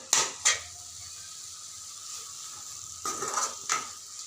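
Fried prawn pieces being stirred in a pan, with two sharp scrapes near the start and a few more clatters later over a faint, steady sizzle.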